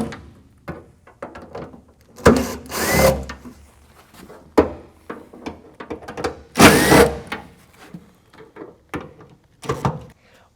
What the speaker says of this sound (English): The quickest and easiest way to pull that out is to use a T30 socket end adapter going onto an electric impact.